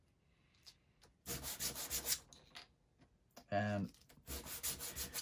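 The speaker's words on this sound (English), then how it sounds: "we need to sand the sides. Probably sandpaper is going to be easier." Sandpaper rubs back and forth along the sides of wooden UGears Aviator model parts, in two close, steady bursts of scratchy strokes with a short quiet gap between them.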